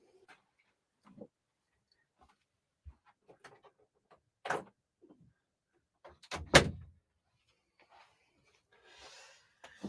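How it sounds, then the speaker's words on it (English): A door being shut in a quiet room, with faint footsteps and rustling before a single sharp, close thud, then soft scraping. "I'm just going to go and shut the door"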